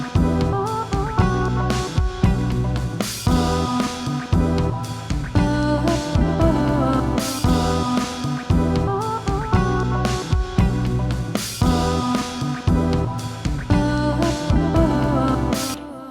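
A looping electronic jam on a Digitakt II sampler of steady beats and layered voice samples, washed in reverb and echoing delay, playing continuously at an even level.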